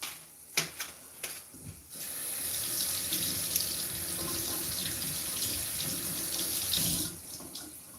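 Running tap water pours over food being rinsed before cooking at a kitchen sink, a continuous hissing splash after a few brief knocks, steady for several seconds before easing near the end.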